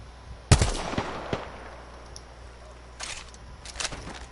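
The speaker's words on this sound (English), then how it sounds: "He's trying to shoot the bot." Gunshots in The Last of Us video game, one loud sharp crack followed by a few fainter shots and quick popping bursts toward the end over a quiet background.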